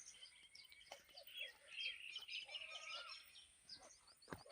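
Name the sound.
koel bird calling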